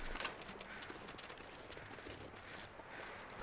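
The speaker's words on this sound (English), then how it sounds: "But I could hear footsteps." Footsteps in a survival video game come as faint, rhythmic, light steps, partly buried in a steady bed of quiet ambient noise.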